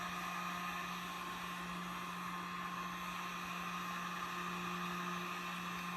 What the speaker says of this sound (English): The heat gun really gives you the most even heating of all of those